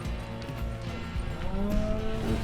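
A cow on a cattle operation gives a low, drawn-out moo that lasts the whole moment, heard close over a rumbling outdoor background.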